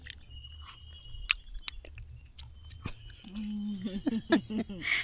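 Someone eating rice mixed with pirandai (adamant creeper) thuvaiyal, with soft, close, wet chewing and lip smacks, interspersed with short clicks and a brief burst of talk near the end.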